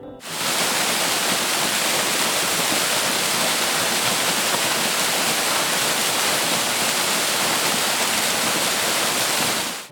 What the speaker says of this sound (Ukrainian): просто сидіти і чути воду